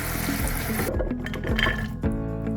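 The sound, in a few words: rinsing soaked nuts in water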